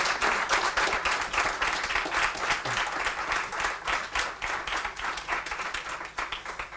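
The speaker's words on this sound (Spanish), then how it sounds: "Me gustaría darles un aplauso" Sustained applause from a crowd at a program launch event, steady dense clapping that continues throughout at a moderate distance.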